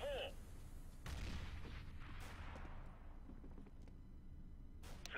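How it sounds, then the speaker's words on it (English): A flashbang grenade goes off in CS:GO: a sharp burst followed by a second blast, each trailing into a hissing, ringing decay over a low game background. "Deploying flashbang"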